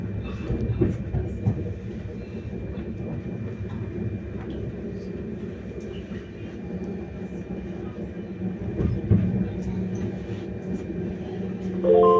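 Trains rumble and clatter at Padova railway station in Italy, a low continuous rolling noise with scattered metallic clicks and faint voices in the background.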